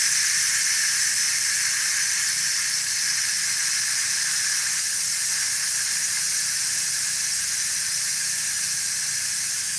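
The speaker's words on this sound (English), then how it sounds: "I'm going to push the valve to let the steam out." Steam hisses steadily from the pressure-release valve of an Instant Pot pressure cooker in a kitchen, a loud, continuous high-pitched rush with no break throughout.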